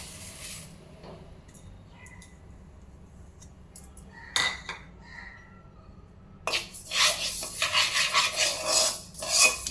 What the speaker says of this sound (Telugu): మనము వీటిని చక్కగా కలుపుకుంటూ వేయించుకోవాలి